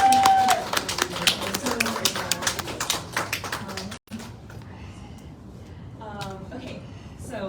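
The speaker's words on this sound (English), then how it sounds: "let's give another round of applause to Strut" An audience at a literary journal release reading claps for a reader, a dense burst of applause that fades after about four seconds, followed by a person speaking.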